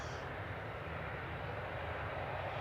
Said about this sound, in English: So departing back to Dubai with flight 22, this is A6 EOR. 9-year-old A380.